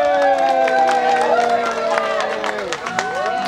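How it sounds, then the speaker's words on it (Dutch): A crowd applauds Frida at a twentieth-anniversary celebration: dense, loud clapping runs throughout under a layer of voices and cheering. "Applaus voor Frida."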